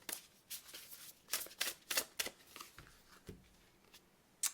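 Astrology cards shuffled by hand in a string of quick, crisp riffling bursts, close and clear, with no talking.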